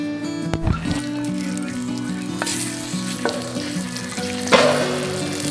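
Jalapeños, tomato and onion fry in a pan until browned for a molcajete salsa. A steady close sizzle runs throughout, with occasional clanks and scraping stirs and no talking.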